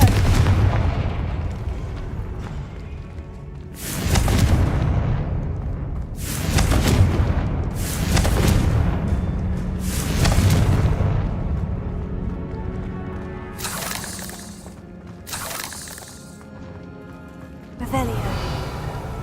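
Confringo fire spells in Hogwarts Legacy burst in repeated heavy explosions, about eight booming blasts spaced a second or two apart, each with a rumbling tail, while a voice speaks between them.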